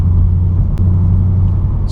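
A Chevrolet SS sedan's 6.2-liter LS3 V8 idles with a deep, steady rumble, loud and close, holding an even drone throughout.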